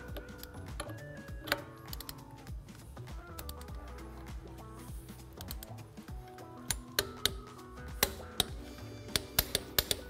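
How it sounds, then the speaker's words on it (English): A micrometer torque wrench clicks sharply several times near the end as it reaches its set torque of 90 foot-pounds on a bolt, following steady ratcheting and mechanical noise, with no talk. "So clearly you can hear it's clicking. It means it reached the 90 foot-pounds torque on that bolt and won't let you tighten it anymore."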